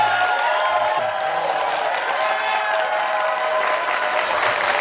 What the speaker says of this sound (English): Give this brother a round of applause.